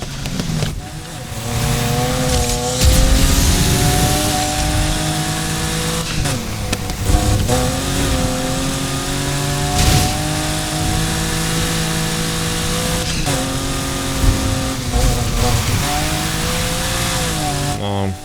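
A BMW M3 accelerating in the racing game Need for Speed Heat, engine revving loudly through repeated rising gear pulls with brief dips at shifts, tire noise and a talking voice underneath.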